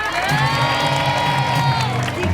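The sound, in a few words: audience applause and cheering for a contestant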